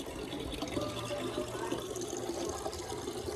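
Water runs steadily in a kitchen, a constant, faint splashing wash with no breaks.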